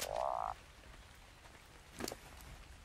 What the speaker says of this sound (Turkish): Kurbağa var mesela şurada.